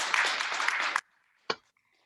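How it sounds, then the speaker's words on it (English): A crowd claps in a brief burst of applause for a student's apprentice black belt at a kids' martial arts class, about one second of dense clapping followed by a single sharp clap. "Give him a round of applause."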